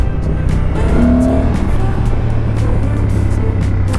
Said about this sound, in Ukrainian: Так, я чуть-чуть газанув, потужності, здається, достатньо